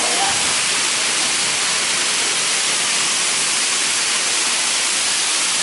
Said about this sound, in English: This is one of the few hotels that I've been in that actually has a waterfall, and you can get under the waterfall here.